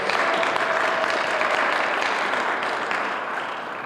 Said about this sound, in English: Round of applause for City of Lynn.